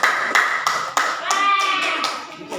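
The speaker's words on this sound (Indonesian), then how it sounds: "Beri aplaus untuk kelompok 4" A classroom of students applauds a student group after its presentation, a few loud separate claps followed by a short burst of clapping, with a voice and chatter in the room.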